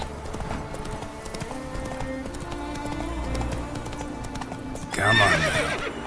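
Horse hooves in The Witcher 3 video game, a steady clip-clop of galloping close by, rhythmic and even, with a brief whinny-like burst near the end.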